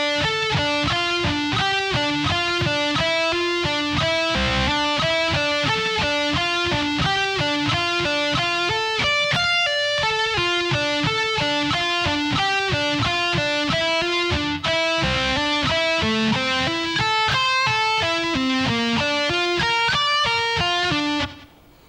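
An electric guitar plays a lick at a slow tempo, a rapid repeating pattern of picked and pulled-off notes that runs steadily and evenly before stopping abruptly at the end.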